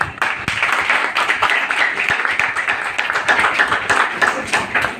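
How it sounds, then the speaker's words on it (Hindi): A crowd applauds to welcome a guest at a gathering, with steady dense clapping running throughout, loud and close, without talk. "जोरदार ताली होनी चाहिए"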